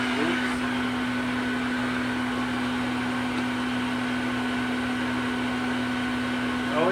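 Elektrapure Exclusive Edition canister vacuum cleaner made by Health Mor, running steadily at its lowest speed, a continuous close motor hum with a strong tonal whine and airy rush, no speech over it.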